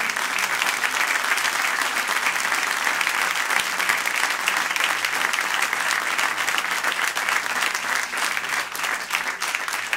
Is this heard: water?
no